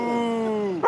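A pet dog gives a single drawn-out, howl-like vocal that slides slowly downward, near and fairly loud, ending in a brief sharper yip.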